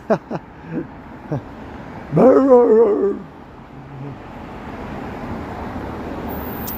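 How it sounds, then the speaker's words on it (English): A dog on a downtown Toronto street at night lets out a few sharp yips, then one longer whining yelp, all fairly close, with faint street ambience and no talk. "It's a dog."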